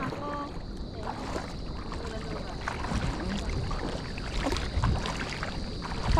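Steady wind rushing and buffeting outdoors, a broad continuous roar with gusts swelling toward the end, voices faintly underneath.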